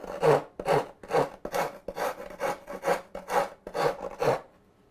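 Rasp filing the edge of a wooden song stick in a workshop: about ten rhythmic, evenly spaced rough scraping strokes, close and clear, with no talk.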